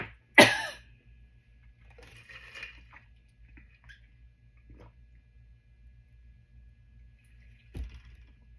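A single sharp cough up close, then quiet shuffling and faint rustles, with a soft throaty sound near the end.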